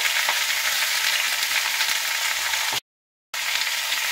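Pumpkin and potato pieces frying in a pan, a steady close sizzle with light stirring, briefly cut to silence partway through before the frying resumes.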